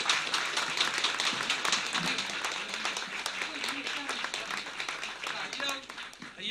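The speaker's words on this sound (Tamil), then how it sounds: "இந்த கைத்தட்டல் எல்லோரும் எழுந்து நின்று அவர்களுக்கு ஒரு சிறப்பான கைத்தட்டலா இருக்கணும்" Audience in a hall giving a standing ovation, broad sustained clapping rolling on throughout while a voice talks over it.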